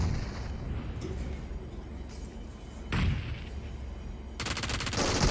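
Gunfire from PUBG Mobile with a steady mid-level game soundscape, a sharp burst near the middle and a dense loud rattle of shots toward the end.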